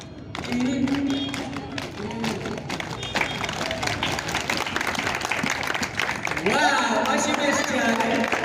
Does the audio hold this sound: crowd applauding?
yes